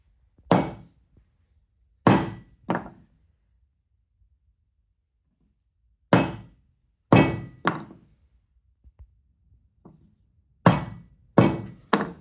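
Mallet blows drive a chisel into wood to cut a housing joint in an exam workshop: sharp, close wooden knocks, mostly in clusters of two or three, with quiet pauses between clusters.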